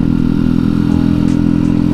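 Mini motorcycle (mocil) on a test ride, its small engine droning steadily and loudly up close with a low buzzing hum and faint rattles throughout.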